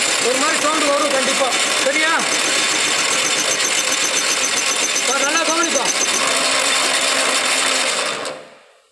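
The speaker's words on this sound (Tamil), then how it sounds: "ரிவர்ஸில் சுற்றுறதால ஒரு மாதிரி சவுண்டு வரும் கண்டிப்பாக." Lathe running in reverse while cutting threads in a step-turning job, a steady mechanical whir and hum with tonal whine, continuous for about eight seconds before cutting off; a voice speaks over it.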